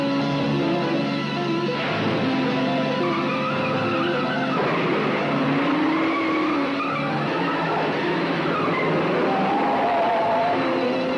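Car tires squeal and skid through a film car chase as a car reverses before turning around. The screech is loud and continuous, with wavering pitch and engine noise beneath it, and no talking.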